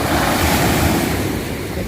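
Ocean waves surge and wash up onto Bang Saray beach in Sattahip, Chonburi, a loud continuous roar of surf with wind buffeting the microphone and no voices.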